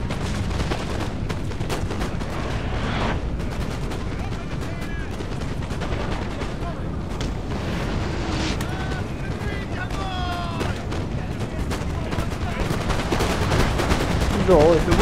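Artillery cannons fire across a Napoleonic battlefield in Napoleon Total War, with repeated booms and crackling volleys mixed into continuous battle noise while someone talks over it.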